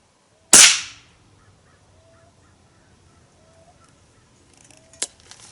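Umarex Surge air gun firing a Gammo pellet: one sharp, loud crack at the start that decays quickly, then near silence before a fainter metallic click and rattle.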